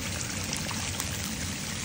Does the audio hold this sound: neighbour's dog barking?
no